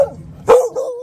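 A single sharp bark comes from a dog, close and loud, within a stressed group of dogs left behind after a family's death, and it trails off into a brief whine.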